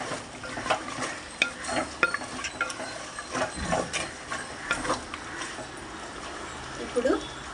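A spoon stirs chili powder into chicken curry in a pan, giving soft scraping strokes and light sizzling at an irregular pace, fairly quiet, with someone speaking over it.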